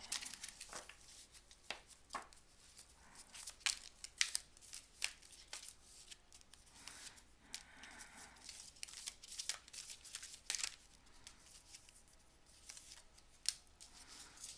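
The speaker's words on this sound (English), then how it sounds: "These cards are shuffling real nice" Tarot cards being shuffled by hand, giving a steady run of soft riffling and snapping bursts at close range, with no talking.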